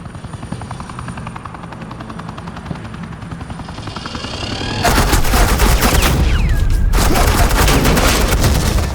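Sustained suppressing gunfire in the video game Batman: The Enemy Within, a dense loud burst of rapid shots beginning midway, over a steady helicopter rotor drone heard throughout.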